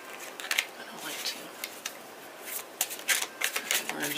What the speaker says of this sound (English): we're going to do 3 shuffles